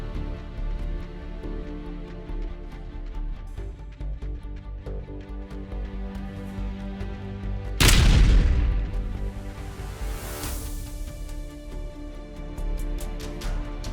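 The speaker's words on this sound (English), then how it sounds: "An explosion inside killed 2 soldiers" An explosion goes off inside a building during a drone strike on soldiers in a war zone, a sudden loud boom in the middle that decays slowly over a rumbling background.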